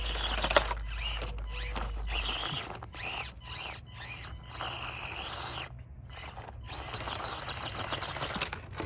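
An Axial SCX24 Deadbolt RC crawler works over an obstacle on a dry course, its small motor whirring and gears ratcheting in uneven bursts with clattering tire and chassis scrapes, fairly close and steady.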